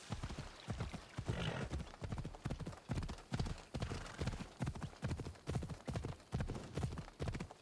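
Horse hooves clip-clop at a steady galloping rhythm in the video game Assassin's Creed Odyssey, close and fairly loud, with faint game ambience underneath.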